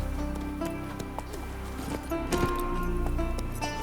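In The Witcher 3: Wild Hunt, Geralt's horse Roach moves in rhythmic hoofbeats, with steady clip-clopping thuds repeating close by over ambient game sound.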